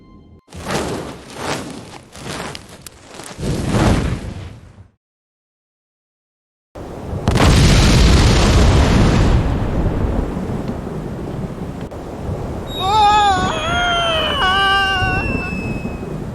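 Bomb detonating in Monkey Island 2 Special Edition: LeChuck's Revenge. After a few rumbling thuds and a brief silence, a heavy, loud boom bursts in and rolls on as a long rumble, with whistling tones rising near the end.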